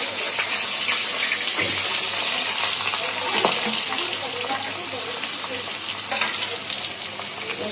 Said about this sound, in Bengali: দেখেন সুন্দর করে মাছটা ভাজবো।